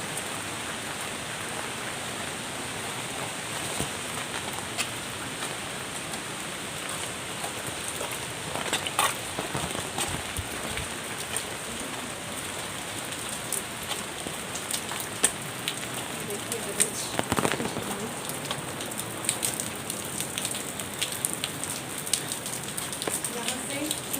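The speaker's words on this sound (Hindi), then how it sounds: "बारिश कंटिन्यू हो रही है" Steady rain falls continuously near a waterfall trail in the hills, a dense hiss of drops pattering on surfaces throughout, with a few louder splashes and faint voices talking underneath.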